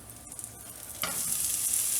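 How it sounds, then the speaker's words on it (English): Water and corn sizzle in a hot pan, a soft crackle that bursts louder midway into a steady bright hiss. "Hear the sizzle?"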